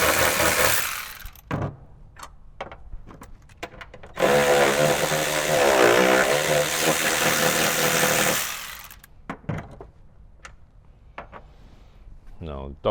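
Power tool whirring continuously for several seconds as it removes the seat bolts in a Jeep Wrangler, close and loud, with clicks and clunks of handling before and after.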